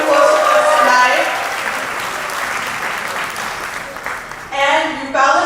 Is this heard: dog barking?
no